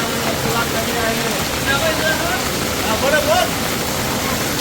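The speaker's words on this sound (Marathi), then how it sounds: "भरपूर पाणी गावामध्ये यायला सुरुवात झालेली आहे." Floodwater from a swollen river rushes steadily through village streets with a constant broad roar, while faint voices sound intermittently beneath the flow.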